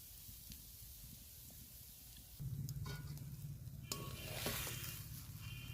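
Mashed eggplant bharta, cooked down to a dry, dough-like mass, is stirred and fried in a wok, a steady soft sizzle that grows louder partway through, with scraping stirs and occasional clicks.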